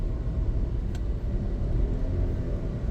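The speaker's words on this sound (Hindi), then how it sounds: "आपने क्लच दबा के एक्सीलेटर भी दबा रखा था, इधर क्लच दबा के आप 6 गियर लगा रहे थे, उधर आपका एक्सीलेटर दबा हुआ था, इसलिए इंजन साउंड कर रहा था।" A car engine drones steadily, revving loud and close inside the cabin with the clutch and accelerator held down together during a sixth-gear shift at highway speed, a continuous low rumble throughout.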